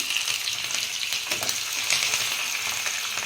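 Mustard seeds, cumin, black pepper and finely chopped green chillies frying in a pan of ghee for pongal, giving a steady bright sizzle with small crackles and pops, close and continuous.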